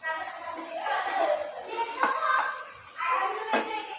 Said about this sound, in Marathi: चला कांदा थोडासा आपण परतून घेऊया, भाजला की नाही बघूया थोडासा असा।